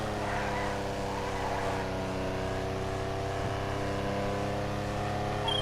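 Benefactor Stirling GT, a classic Mercedes-style sports car in GTA Online, holds a steady engine drone near top speed, with layered harmonic tones running continuously and fairly loud throughout.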